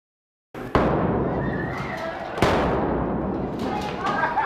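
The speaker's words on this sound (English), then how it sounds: "Gunshots filled the hallways at Pueblo East Friday morning." Two sharp gunshots crack through a school hallway at Pueblo East during a police active shooter training drill, each followed by a long reverberating echo, with voices present.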